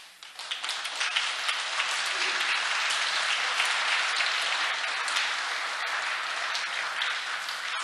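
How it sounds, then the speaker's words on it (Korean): Audience applause in a Seoul hall, dense sustained clapping from a large crowd that swells in quickly after the first second and holds steady and loud throughout. "저 박수로 환영하자"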